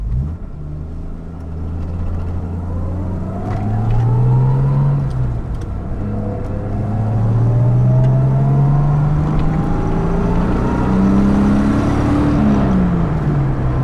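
A 1966 Jaguar XKE Series I 2+2 coupe with its original triple-carb 4.2 engine accelerating on a drive, loud steady engine rumble rising through the gears with repeated climbing revs from the cabin, no talking.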